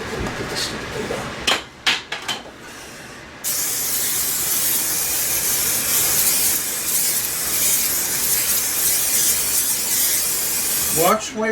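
An aerosol can sprays adhesive onto a Marshall 1960A speaker cabinet being re-covered in tolex: a loud, steady hiss runs for about eight seconds after a few short handling knocks, ending with another bump.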